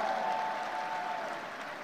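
Audience at an international social dialogue forum on equality and human rights applauds steadily, a dense wash of clapping that holds level for about two seconds and eases slightly at the end.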